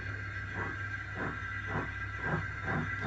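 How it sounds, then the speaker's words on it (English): A model train runs out of a station with a steady mechanical whirr, marked by a soft rhythmic clack that repeats roughly twice a second, close by and without voices. "Toby is currently driving a train out of the station."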